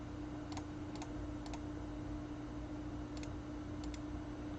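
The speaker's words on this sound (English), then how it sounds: "You're left clicking to select it all." A computer mouse clicks during selection work in Photoshop, several crisp quiet clicks in loose pairs over a faint steady hum, with no voices.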